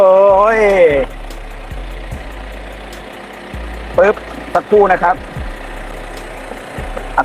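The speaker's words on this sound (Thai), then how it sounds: "เครื่องยนต์นิ่งมากนะฮะ เป็นดีเซลนะครับ" A common-rail diesel engine in a Mitsubishi Pajero Sport idles with a steady low rumble throughout, while someone talks over it.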